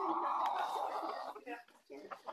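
A bantam chicken clucks in low, short bursts at close range during an agility session, with people talking around it.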